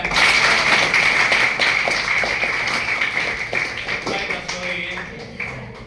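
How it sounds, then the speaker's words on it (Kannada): An audience bursts into clapping again, a loud crowd patter that starts strong and gradually thins out, with a voice talking over it. "ಚಪ್ಪಾಳೆ ಮತ್ತೆ ಹೊಡಿತೀರಾ?"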